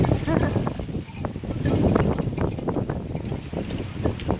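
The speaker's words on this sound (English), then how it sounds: "here comes the wind again." Wind blowing outdoors, gusting loudly against the microphone in a continuous rumbling buffet that swells and eases, with someone talking over it.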